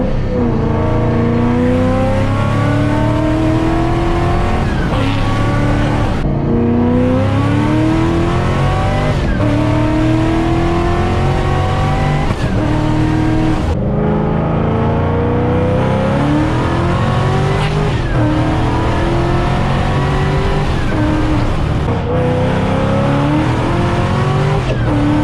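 A Ford Mustang GT500 roars through repeated full-throttle pulls, its engine note climbing steadily through each gear before a brief dip at the shift, loud and continuous with no talk.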